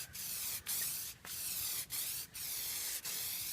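Plasti Dip sprays from an aerosol can onto a Mustang GT in several steady hissing bursts separated by brief pauses, close and fairly quiet, with no talking.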